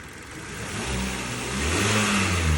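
A Hyundai Sonata 2.4 engine with an air intake problem revs up, its low droning pitch climbing and falling in a couple of rising surges, loud and close with no talking.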